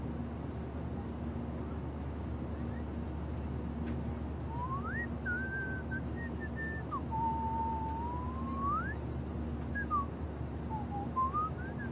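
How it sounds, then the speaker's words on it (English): Someone whistling aboard a passenger plane, a wavering melodic tune rising and falling in short phrases over a constant low engine drone. "Do you mind not whistling?"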